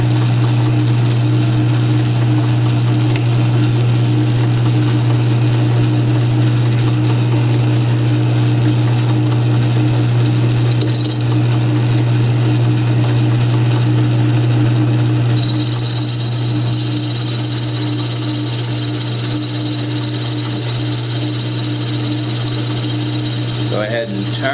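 A lathe turns a stainless steel part, a loud steady motor hum and drone running throughout, joined midway by a higher whine of the cutting tool on the metal.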